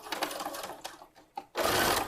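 A sewing machine runs a basting stitch around a pair of leggings: rapid close mechanical stitching in short bursts, a pause with a click, then a louder steady run of needle strokes.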